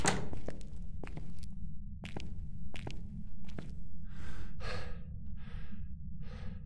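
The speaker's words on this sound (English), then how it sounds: "Please stop panting." A player character in the horror game Phasmophobia pants heavily, with rhythmic breathy huffs after a series of dull thumps like footsteps or doors, close and loud with no talking.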